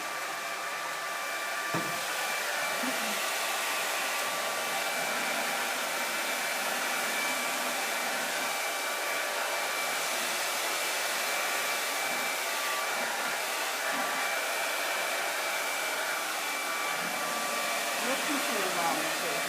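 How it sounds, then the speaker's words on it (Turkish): A hair dryer runs steadily and continuously at close range, blowing on a freshly painted kitchen cabinet with only brief faint bumps beneath the even whoosh. "Biz tabii ki saç kurutma makinesiyle kurutuyoruz"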